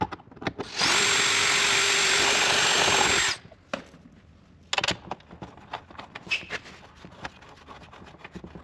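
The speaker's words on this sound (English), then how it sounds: "gonna drill this side first." A power drill bores through 1990s ABS plastic interior trim, one loud sustained whine of about two and a half seconds, followed by quieter handling clatter and scraping of the plastic part.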